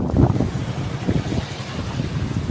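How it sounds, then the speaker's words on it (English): Strong wind buffets the microphone in low rumbling gusts on a motorcycle ride in the mountains of Don Salvador, Philippines, near a waterfall, steady and loud throughout with no voices. "Very, very windy now"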